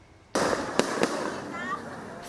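Fireworks go off at a late-night homecoming welcome for a freed former senator in Bacoor, Cavite, a sudden loud burst of crackling and booming that continues steadily, with two sharp bangs standing out near the start.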